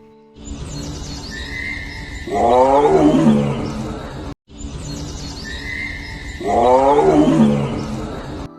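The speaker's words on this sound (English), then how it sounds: "T for tiger" A big cat lets out a loud, deep roar, heard twice in a row with a brief gap between, close and powerful.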